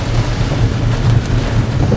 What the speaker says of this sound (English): Rain coming up on the left.